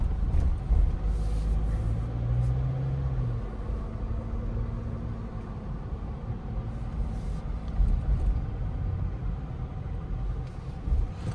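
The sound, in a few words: GWM Tank 300 2.4 turbo diesel SUV driving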